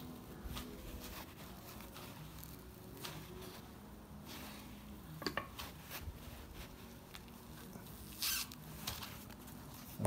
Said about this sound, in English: So you're just going to grab it from the side, just kind of peel it back like that, and it'll help break it free.